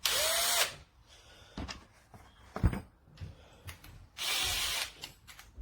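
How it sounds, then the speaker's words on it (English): A LEEIKOO 21V cordless combi drill runs in two short bursts of high, loud whirring near the microphone, separated by quiet handling clicks and knocks. "This is a good drill from what I've seen so far"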